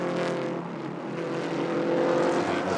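GT4 race car at speed around the Watkins Glen circuit, its engine a steady, moderately loud drone that rises slightly toward the end, with no talk over it.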